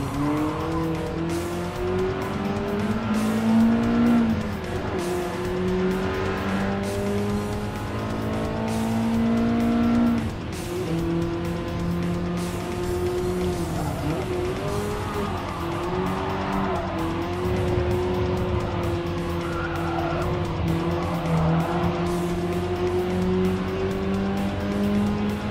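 A BMW M3 Sport Evolution races in Gran Turismo Sport, its engine revving up and down through the gears for a sustained stretch, with tyres squealing through a tight hairpin and no voices.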